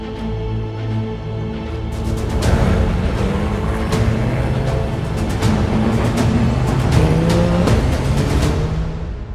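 Rally cars drive hard on mountain passes in the hills of the Côte d'Azur, France, with loud, sustained engine roar, revving and possible tire squeal filling the whole stretch alongside sharp clicks and bangs.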